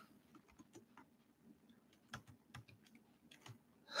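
Keys on a computer keyboard tapped in irregular, quiet clicks, some clustered and some spaced apart, heard close against a low room hum.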